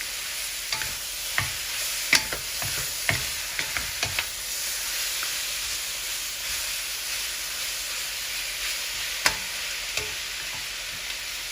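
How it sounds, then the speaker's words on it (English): Beef stir-frying for pancit bihon in a pan, a constant loud sizzle with scattered sharp taps and scrapes of a utensil as it is tossed, close up, no one talking. "we'll just go ahead and get the beef in here. Do a little bit of a stir fry on this"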